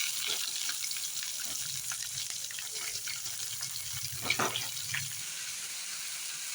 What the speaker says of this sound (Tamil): அடுத்து நம்ம வெட்டி வச்ச வெங்காயத்தை சேர்த்துக்கலாங்க